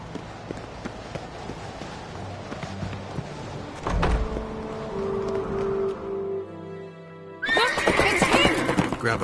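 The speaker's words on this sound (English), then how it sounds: "Grab a horse, we'll chase him down." A horse whinnies loudly amid the clatter of hooves and movement in The Witcher 3, followed by a burst of louder scuffling and galloping noise near the end.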